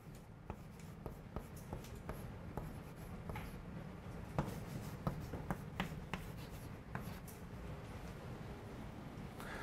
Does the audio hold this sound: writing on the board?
yes